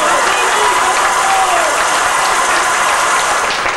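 Wedding guests applauding during a party game, a loud continuous crowd of clapping that stays even, with voices mixed in beneath it.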